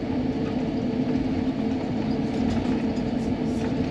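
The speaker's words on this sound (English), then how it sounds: "We're still taxiing to the runway." Inside the cabin of a Virgin Atlantic A350-1000 airliner taxiing to the runway, a steady low engine rumble and hum fills the space, constant and even throughout with no voices.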